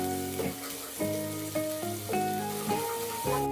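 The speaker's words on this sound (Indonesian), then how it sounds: "Kemudian aku tumis bumbunya sampai harum dan sampai matang." Ground spice paste sautéing in hot oil for tofu martabak, a steady close sizzle with several scraping stirs in a rhythmic pattern and no talking.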